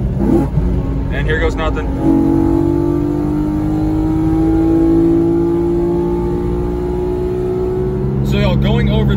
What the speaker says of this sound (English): so I'll do a third gear pull for y'all in a second